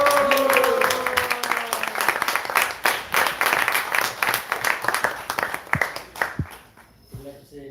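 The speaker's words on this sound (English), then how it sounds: "Let's give a big round of applause." An audience applauds a pair of hosts at a spiritual talk on bhakti-yoga, with dense clapping and some voices mixed in throughout. The clapping thins into scattered claps toward the end.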